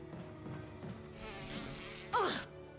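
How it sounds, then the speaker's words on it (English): Wasps buzz in the Resident Evil (2002) video game, a steady insect drone under game music and ambience, with a sharper rising whine near the end. "Stop dying to wasps!"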